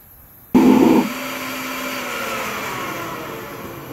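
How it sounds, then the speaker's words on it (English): A homemade propane-fired furnace used for melting aluminum, fed by a small canister of propane with an electric blower forcing air, roars steadily after a loud burst as it starts, settling into a continuous whooshing hum with no talking. "that's what the furnace sounds like when it's running"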